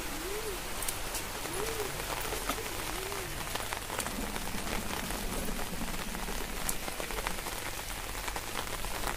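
Steady rain falls on surfaces outdoors as a dense, continuous patter with close drips throughout, and a dove coos softly a few times early on.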